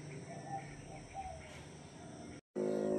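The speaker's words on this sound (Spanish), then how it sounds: "que escuchen los pajaritos." Soft bird calls and coos at dawn in the Salvadoran countryside drift in faintly over a quiet background, scattered and distant, before a brief dropout and a louder hum.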